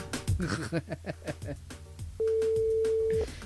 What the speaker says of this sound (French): on appelle Stéphanie du côté de Saint-Joseph